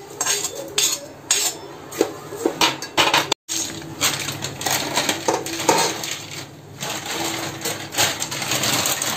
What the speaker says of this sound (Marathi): त्या नागकेशरचं तेल टाकलंय बघा, चांगला फटफट आवाज यायला लागला